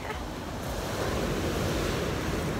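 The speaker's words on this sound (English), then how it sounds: "So we made it to the beach, Minori Beach," Sea waves wash onto Minori Beach on Italy's Amalfi Coast, a loud continuous surf rush with some wind buffeting the microphone and no voices.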